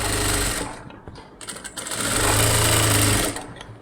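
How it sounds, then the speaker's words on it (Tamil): A sewing machine runs a second seam on a blouse cup, with two loud, close bursts of rapid mechanical stitching separated by a brief uneven pause, and no talking. "இப்போது இன்னொரு தையல் போடுறேன்"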